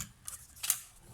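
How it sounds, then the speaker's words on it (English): Scissors snip through paper being trimmed for a card-stamping craft project: two short, crisp cuts, close and fairly quiet, with a faint gap between them. "Let me just cut it down there."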